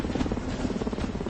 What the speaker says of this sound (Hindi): हेलीकॉप्टर फिर से आ रहा है, उसे कवर की तरह यूज करो।